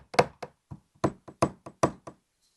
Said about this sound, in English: I want my hammer just to make it flush on top